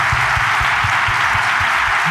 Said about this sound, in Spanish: antes de darte el premio, también un aplauso para Siscu